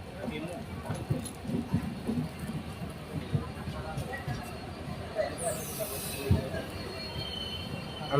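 The 15483 Sikkim Mahananda Express rolls into Siliguri station, giving a low rattling rumble of wheels with faint squeals and clacks as it slows, while people talk nearby.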